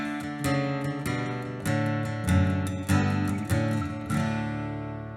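Acoustic guitar in DADGAD tuning picks an Irish tune, My Darling Asleep, with a walking bass line stepping downward, each note struck clearly and ringing over open strings, close and unaccompanied.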